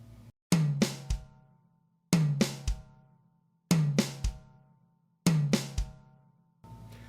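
Linear drum groove on the second tom, snare and kick, four repeated bars of quick tom and snare hits followed by a deep kick, close, clear and evenly spaced, with no talking.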